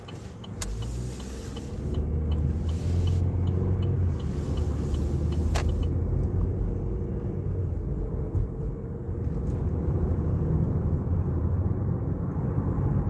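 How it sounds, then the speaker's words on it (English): Steady road traffic rumbles by in a continuous low roar of passing cars, with a few sharp clicks early on; no voices are heard. "A lot of traffic over here on that side."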